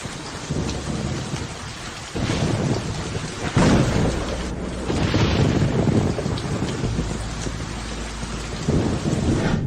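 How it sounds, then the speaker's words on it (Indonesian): Heavy night thunderstorm with steady rain pattering on surfaces and repeated deep thunder rumbles and cracks building in waves, loud and continuous with no talking. "Malam ini ada petir, aku takut."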